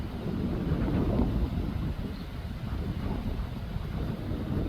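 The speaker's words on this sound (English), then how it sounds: "and it's windy. It's maybe 15 knots, like a 25k an hour wind." Strong wind of about 15 knots buffets an outdoor microphone, a loud continuous low roar and rumble with no voices.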